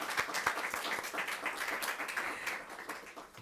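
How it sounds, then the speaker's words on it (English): Audience clapping at an African scholars awards ceremony, a moderate burst of scattered hand claps that carries on steadily for a few seconds without speech. "Round of applause."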